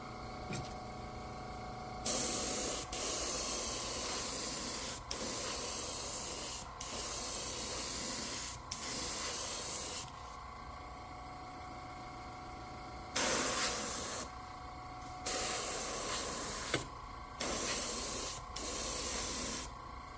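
Paint spray gun coating a fishing glide bait in repeated bursts of steady hiss, each lasting one to three seconds and separated by short pauses, loud and close, with no talking.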